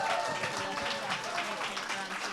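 Conference audience of alumni standing to cheer, with sustained applause and whooping filling the room. The clapping is dense and close and continues unbroken.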